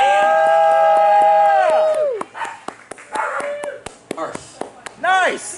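A dog on a stage in an Irish brewery pub lets out a drawn-out howl followed by several sharp barks and yips, with a crowd cheering and people talking around it.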